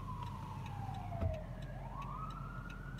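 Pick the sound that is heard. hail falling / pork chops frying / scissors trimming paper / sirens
sirens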